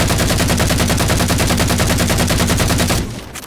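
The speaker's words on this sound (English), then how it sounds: "the assault rifle is basically the Halo 3 assault rifle taken right back" Sustained automatic fire from the Halo 4 assault rifle in the video game, a loud rapid stream of shots that runs for about three seconds and then stops abruptly with a brief tail.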